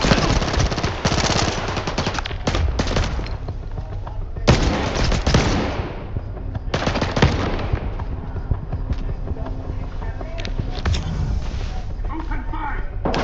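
Rapid bursts of automatic gunfire from a S.T.A.L.K.E.R. 2: Heart of Chornobyl firefight, loud and close, with dense repeated volleys and short pauses over a continuous combat din, and voices calling out beneath the shooting.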